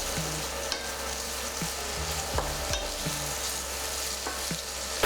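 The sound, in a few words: carrots frying and being stirred in pan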